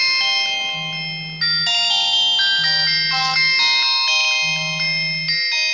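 Electronic mobile phone ringtone plays a bright, steady melody of chiming tones for several seconds, with a low hum pulsing underneath in three separate bursts.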